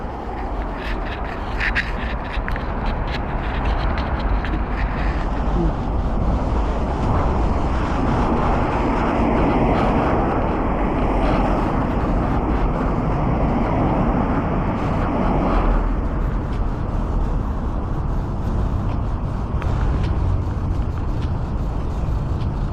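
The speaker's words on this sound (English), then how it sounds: "Damn, it's a lot more windier in the night than the day is" Strong wind blows steadily outdoors at night, a loud, unbroken broadband roar that rushes and buffets for the whole stretch with no voices.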